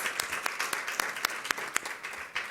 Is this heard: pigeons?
no